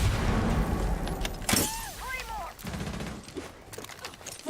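Bursts of gunfire from a Rainbow Six Siege esports match, loud sharp volleys mixed with explosions and clattering game effects, with a caster's voice running over the action.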